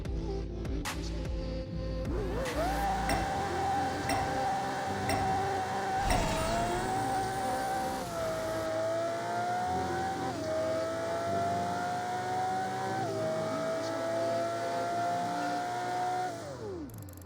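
In the racing game Apex Racer, a race car on a half-mile run roars from a standstill, its engine climbing through several gear changes with brief dips between them, loud and continuous for the whole run before easing off.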